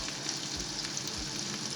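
Spices for dal tadka sizzle and crackle in hot oil, a steady frying hiss with small pops, close and continuous.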